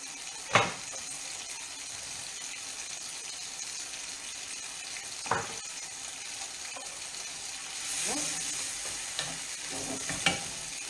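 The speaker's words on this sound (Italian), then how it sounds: "questo qua facciamo soffriggere" Ingredients for paccheri with tuna and eggplant fry in a pan, a steady soft sizzle broken by a few sharp clatters of stirring, with no voices.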